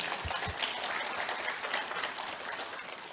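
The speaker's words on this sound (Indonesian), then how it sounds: "tepuk tangan buat beliau." A lecture audience claps for Anies Baswedan, an Indonesian presidential candidate, in a full, steady burst of many hands that fills the room evenly throughout.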